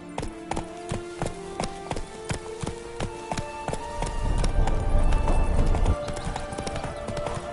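Hooves of Roach, the horse in The Witcher 3, clop in a steady rapid rhythm while she runs, close and clear, with a low rumble swelling underneath midway.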